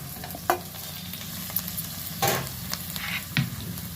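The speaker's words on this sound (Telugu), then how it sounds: "మిగతా కూరగాయలు వేస్తాను వంకాయ ముక్కలు వేస్తున్నాను రెండు వంకాయలు మాత్రమే" Eggplant pieces and mixed vegetables go into a hot pan for dal, giving a continuous low sizzle broken by a few sharp bursts as pieces drop in and are stirred, with no speech.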